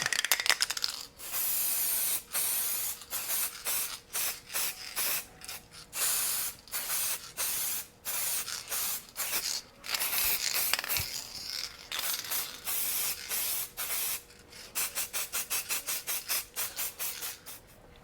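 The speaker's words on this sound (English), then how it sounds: "Now that we have our scan spray all over the factory bracket" Rapid bursts of aerosol 3D-scanning spray hissing onto a 1995 Suburban seat bracket in short, repeated blasts, some longer and some clipped, speeding into a quick series of puffs near the end.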